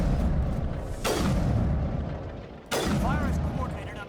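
Two heavy sniper rifle shots boom in Mass Effect, spaced a couple of seconds apart, each a sharp loud crack with a rumbling tail, under ongoing voiced game dialogue and background battle noise.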